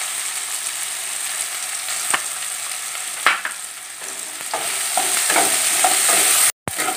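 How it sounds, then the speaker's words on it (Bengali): Potato pieces seasoned with turmeric and salt sizzle steadily in hot oil, close and fairly loud. Several sharp scrapes and knocks of a spatula stirring them break through the hiss. "আলুগুলো ভাজা হয়ে গেছে,"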